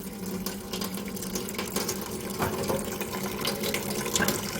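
Lemongrass rinsed under a running tap for a Thai chicken and turmeric soup, a continuous close splash and trickle of water with small shifting surges as the stalks are handled.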